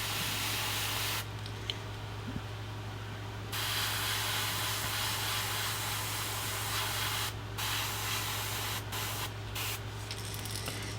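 An airbrush sprays paint onto a fishing lure bait in steady, close hissing bursts, with several short pauses between passes and no talking.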